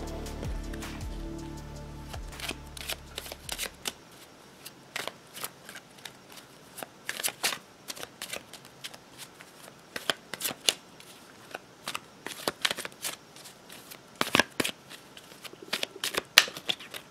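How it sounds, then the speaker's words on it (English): A Smith-Waite tarot deck is shuffled by hand, giving close papery flutters and crisp card snaps in irregular bursts, with a low hum that fades out early. "I will be using the Smith-Waite Tarot deck"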